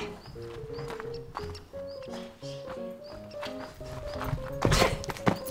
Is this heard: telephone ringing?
no